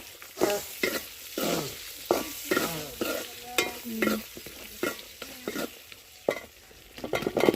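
Potato pieces tossed into a hot pan and stirred, with a loud crackling sizzle broken by repeated scraping strokes of a spatula at a brisk, uneven rhythm, close up.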